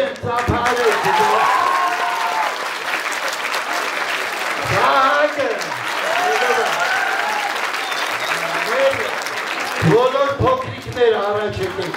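Hall audience at a school Mother Language Day event bursts into applause and cheering, sustained clapping with shouts rising and falling across the stretch, interleaved with a loud amplified voice.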